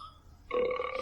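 A single loud burp starts abruptly about halfway through and rings on with a low, drawn-out tone until the end, with nothing else around it.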